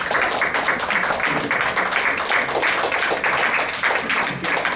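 Audience at a municipal rezoning hearing for Pleasant Street applauding and cheering, a dense, steady wash of clapping and crowd noise that fills the whole stretch at loud, even level.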